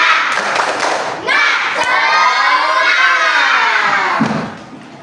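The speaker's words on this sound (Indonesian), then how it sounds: "kita tepuk semangat dulu yuk" A school class joins in a rhythmic 'tepuk semangat' clapping chant, loud and close, with many children's voices shouting together in unison over claps for several seconds before it cuts off.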